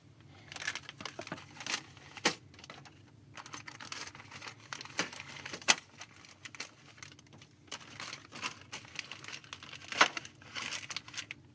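Crinkling and tearing of plastic packaging as LEGO Mixels Series 4 Orbitons sets are opened, irregular crackles and sharp rips close by with quiet gaps between.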